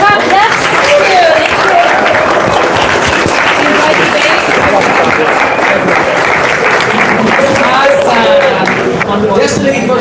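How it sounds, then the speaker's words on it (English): Sustained applause from a live audience at a heated political debate event, dense steady clapping throughout with occasional voices and cheers mixed in. "Everyone clap."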